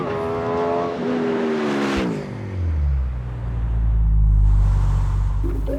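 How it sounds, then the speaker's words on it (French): An Aprilia Tuono roadster motorcycle accelerates hard out of a bend, its engine note climbing through the revs before a gear change drops it lower and it pulls on strongly, loud and close with no talking. "Le roadster m'échappe encore mieux du virage"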